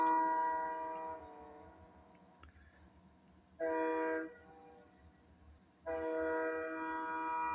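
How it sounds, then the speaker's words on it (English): A train sounds its horn while passing a rail junction: a long, loud blast, then a shorter one, then another sustained blast, with faint rumble between them. "And there's the train."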